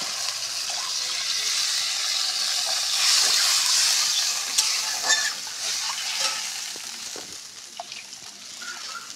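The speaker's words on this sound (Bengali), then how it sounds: "এবার আমি জল দিয়ে দেবো।" Water poured into sizzling spice paste in a pan for Bengali boal fish curry (oil-and-chilli tel jhaal), a steady loud hiss and frying crackle with spoon stirring scrapes throughout, no voices.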